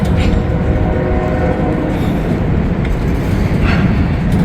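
A long freight train rumbles loudly and continuously nearby, a dense low roar of rolling cars with faint metallic tones above it.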